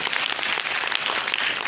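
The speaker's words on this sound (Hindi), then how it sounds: "जोरदार ताली तो होनी चाहिए भाई।" Seminar audience applause fills the room, a dense wash of many hands clapping at once, steady and moderately loud throughout the short burst, with no talking over it.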